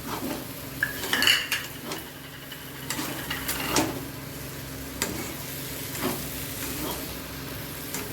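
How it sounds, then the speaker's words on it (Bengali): Boiled peas and potato for ghugni are stir-fried in a pan, with a spatula repeatedly scraping and clattering against the metal under a steady low sizzle, close up and without talk. "এখন আমি একটুখানি ভালো করে ভাজা ভাজা করে কষাবো"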